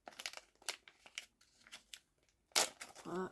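A special eraser being unwrapped from its packaging, with several short bursts of crinkling and tearing plastic, separated by pauses and ending in a louder rustle, close up and quiet.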